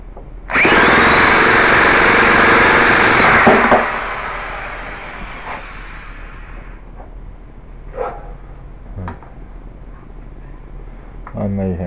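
A K/BV 91 glow-fuel ducted fan engine with a Byron ducted fan unit starts up loud and close with a piercing high-pitched whine for about three seconds, then cuts back to a rough, fluttering idle with sputters.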